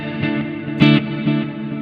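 An electric guitar runs through an EarthQuaker Devices Data Corrupter fuzz and into a Dispatch Master delay and reverb pedal, playing loud, distorted, harmonically rich notes with a strong accented hit and echoing repeats.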